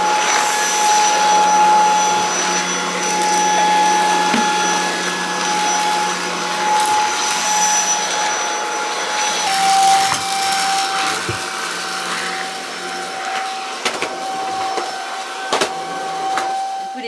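A vacuum cleaner runs steadily and close by for the whole stretch, giving a constant high whine with a slight shift in pitch partway through. Nobody speaks.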